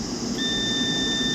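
A multimeter set to continuity gives a steady electronic beep as its probe touches the gate of an N-channel MOSFET during laptop board repair. The tone starts a moment in and then holds unbroken over quiet bench hum.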